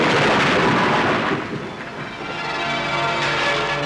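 Thunder rumbles steadily over a heavy downpour of rain in a 1985 Pakistani film scene, a loud, continuous broadband roar with no voices.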